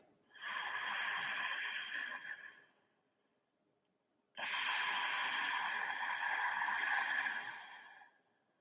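Ujjayi breathing through a constricted throat makes two long, hushed, ocean-like breaths, each lasting a few seconds with a short silent pause between them, close and fairly loud.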